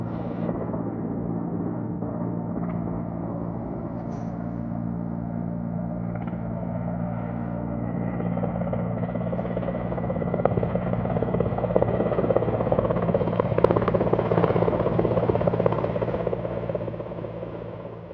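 A military helicopter of the Malian armed forces, used to evacuate wounded soldiers, drones with a continuous rotor and engine whir that swells louder midway through before easing slightly, heard clearly without talk.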